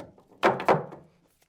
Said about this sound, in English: Bang it back in.